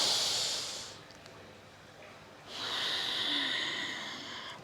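Forceful Bhastrika pranayama through the nose: a loud hissing nasal breath, then a quieter pause, then a second strong, airy nasal blast. Close and alone, without talk.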